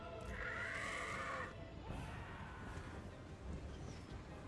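Horses whinny in the Total War Warhammer 3 battle, a loud, drawn-out neigh at the start followed by fainter whinnies over a low battlefield rumble.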